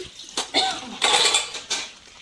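Dishes and pots clatter in a few quick, sharp bursts as they are washed, near and moderately loud, with running water and faint background voices.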